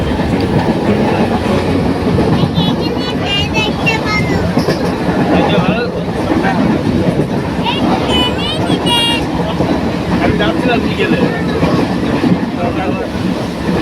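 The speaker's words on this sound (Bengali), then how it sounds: "তো উঠে পড়েছি ট্রেনে, কিন্তু ট্রেনে জায়গা না," Inside a crowded moving passenger train bound for Ranaghat station, a steady loud rumble and rhythmic clatter of wheels on rails run throughout, with people talking in the background.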